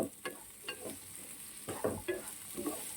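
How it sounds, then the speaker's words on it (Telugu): Potato pieces roasting in oil for a potato curry with mango pieces, a soft continuous sizzle broken by several short spatula stirs and scrapes close by. "ఇప్పుడు పొటాటోలు యాడ్ చేస్తున్నాను. చూడండి, ఇవి మనకు ఆయిల్లో బాగా రోస్ట్ అవ్వాలి."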